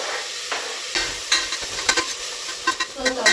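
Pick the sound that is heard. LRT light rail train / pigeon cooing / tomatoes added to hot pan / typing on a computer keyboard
tomatoes added to hot pan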